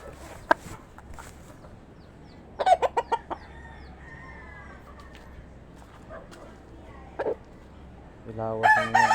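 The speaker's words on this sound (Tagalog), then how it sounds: "Grabe gwapuhan ng manok." A rooster crows in bursts and clucks, joined by other fowl calls, in a rural yard where fighting cocks are kept, set against steady low outdoor rumble with a dog-like bark and some faint background voices.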